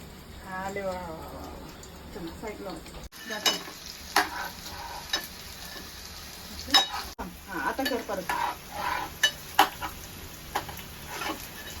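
Onion dropped into hot oil in a pot on a gas stove sizzles and crackles steadily, with stirring scrapes and a few clattering knocks, while a child and an adult talk throughout.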